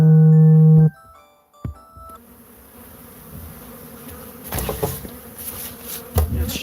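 Honeybees buzz in a dense, wavering drone that starts after a brief tonal hum and a couple of sharp knocks, then swells louder toward the end.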